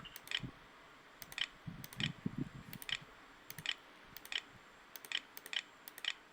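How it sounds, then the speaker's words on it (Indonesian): Keys tapped on the built-in keyboard of an Acer TravelMate P249-G2-M laptop while a password is entered, giving soft, close clicks in small bursts and single taps, with faint handling and low background rumble. "Kita masukkan password menggunakan keyboard internal."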